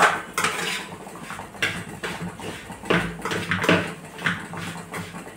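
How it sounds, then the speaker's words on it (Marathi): A spoon presses and mixes milk powder into rava, giving loud repeated scraping and clinking against the bowl in an uneven rhythm, close up and with no voices. "म्हणून अशी छान अशी मिक्स करून घ्यायची, चम्मचनं अशी दाबत दाबत"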